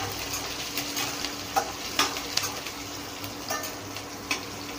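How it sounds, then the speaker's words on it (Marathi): Cumin seeds and green chilies fry in hot oil for a Maharashtrian sabudana usal, giving a steady low sizzle with scattered small pops and crackles and a few sharper ticks from stirring, close up and with no voices. "तेल गरम झाल्यानंतर त्यामध्ये थोडं जिरं टाकून घ्यायचं। हिरवी मिरची ॲड करायची आहे"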